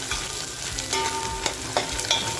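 Mutton fat frying and sizzling in a pan for a rustic mutton curry, a steady crackling hiss with occasional stirring scrapes and clinks close up.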